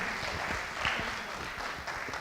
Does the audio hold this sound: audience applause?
yes